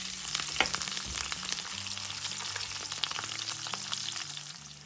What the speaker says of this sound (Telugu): ఇలా తిప్పుకుంటూ వేయించుకుంటే అన్ని వైపులా కూడా మనకు వేగిపోతాయి